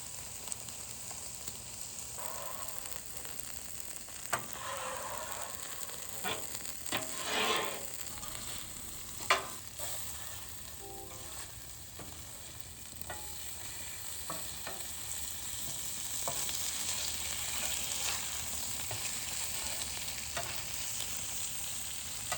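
Onions fry in bacon grease on a Blackstone griddle with a steady, bright sizzle, broken by occasional metal spatula scrapes and clicks as they are pushed around, close and continuous for the whole stretch.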